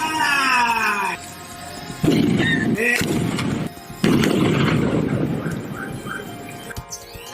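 A large practical explosion on a documentary shoot bursts in deep, rumbling blasts, each a loud booming surge that fades, with voices and faint music underneath.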